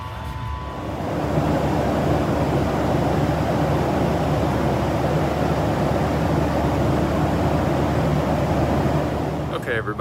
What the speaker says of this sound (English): so now we've landed in Dallas Love Field for our connecting flight en route to Phoenix